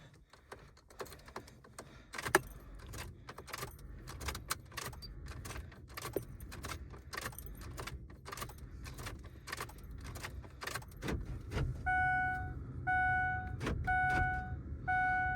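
A Ford truck's door locks clunk repeatedly while its key fob is programmed, a series of sharp mechanical clicks and rattles close by, followed near the end by several regular electronic beeps.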